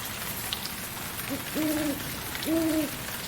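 Two owl-like hoots, each low and drawn out, sound over a steady rain-like hiss in the Lost River area of Subnautica, an eerie underwater ambient effect in the video game.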